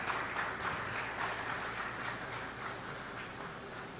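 An audience at the opening ceremony of the Caribbean Broadcasting Union's general assembly in Antigua gives a round of applause, a dense, steady patter of clapping that fades slightly over a few seconds.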